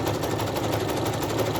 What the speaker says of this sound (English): You don't need to push because the sewing machine will feed it all through.